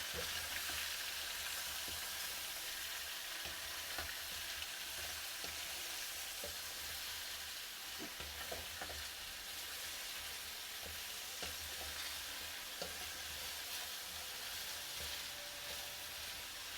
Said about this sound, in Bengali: এগুলো এখন একটু ভাজা ভাজা করবো